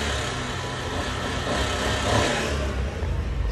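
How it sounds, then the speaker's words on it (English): A small Honda Beat kei car engine revs up and settles back, steady broadband rumble with a rise in the middle, close by. "Let me give it a couple revs."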